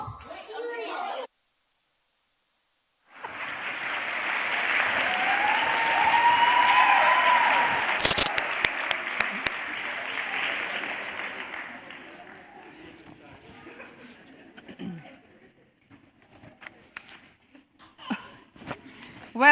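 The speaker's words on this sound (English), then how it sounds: "Let's give them one more round of applause." Audience applause at a Bharatanatyam arangetram dance recital: a short gap of silence, then dense clapping swells and holds, thinning into scattered claps with some voices and movement near the end.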